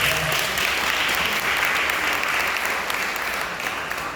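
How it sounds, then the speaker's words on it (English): A crowd applauds at an evening police precinct community council meeting in Brooklyn, steady continuous clapping that holds even and full before easing slightly toward the end. "give a round of applause to yourself coming out of this"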